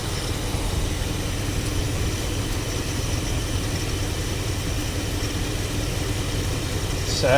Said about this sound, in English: Sitting here idling really good